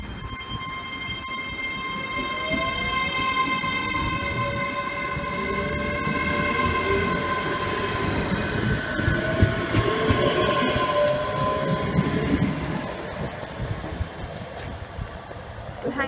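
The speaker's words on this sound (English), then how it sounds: "We'll hang around for the fast train because it's been announced and it's speeding up." A fast train speeds through Glasgow Central station, a steady loud rumble of wheels and carriages with sustained tonal whine and horn-like tones throughout, over busy station ambience.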